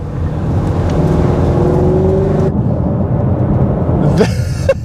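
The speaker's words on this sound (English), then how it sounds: "So let's open up this exhaust." A Ford Mustang Shelby GT350's engine rumbles and revs loudly and steadily with its exhaust opened, then the note abruptly drops and a sharp rising rev surges near the end.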